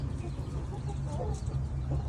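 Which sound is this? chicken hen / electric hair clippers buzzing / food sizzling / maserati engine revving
chicken hen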